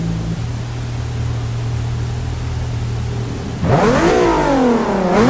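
A 3.8-litre twin-turbo V6 car engine in the video game Forza Motorsport idles with a low drone, then revs hard, climbing and dipping twice in a loud, raspy roar.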